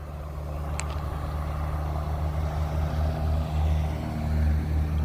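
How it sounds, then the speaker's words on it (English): Truck passing near a railway line, a low steady rumble at moderate distance that swells slightly as it goes by, with no talk. "Oh, that's a cool truck."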